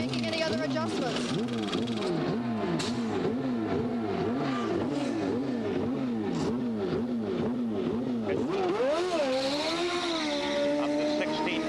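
A CART Indy car from the 1990 Cleveland round revs and accelerates out of a pit stop, its engine note rising and falling in repeated sweeping bursts before a long climbing pull away, with a commentator talking over it.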